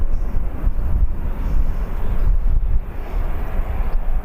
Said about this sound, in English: EasyJet is on the move.